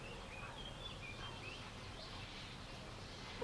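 Birds, including sparrows, sing in the countryside, giving faint, scattered, distant chirps and short whistles over a quiet outdoor background.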